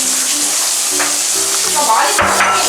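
Japjeon, Korean pancakes of finely chopped leftover ingredients, sizzle and fry loudly in an oiled pan, with a steady close crackle and faint scraping stirs.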